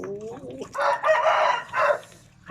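Chickens clucking and calling in loud, ragged bursts, with a short voiced sound at the start and three strong squawking stretches that follow one another closely.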